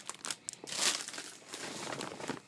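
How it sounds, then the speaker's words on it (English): Plastic packaging from a craft store crinkles and crackles close up, with a louder rustling burst in the middle and steady crumpling throughout. "Sorry for the crinkling."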